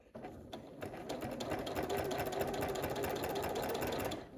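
A sewing machine stitches a quilt in one continuous run, its motor whirring and its needle clattering rapidly and steadily up close after a brief start, with no talking.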